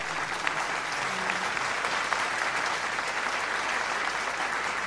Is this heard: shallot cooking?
no